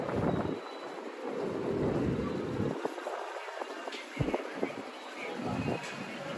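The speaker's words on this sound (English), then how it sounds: "Man, is it windy tonight." Night wind gusting along a New York City street outside a pizza shop, a steady broadband buffeting rush against the microphone with a few sharp thumps and swells, no talk.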